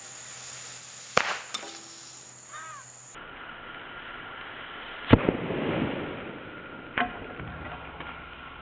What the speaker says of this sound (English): Will it firecracker? Special secret pyrotechnic edition.